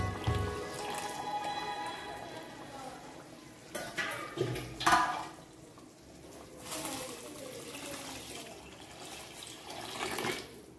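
Water pours into a cooking pot in a steady, close splashing stream that swells and eases a few times, with faint background sounds and no talking.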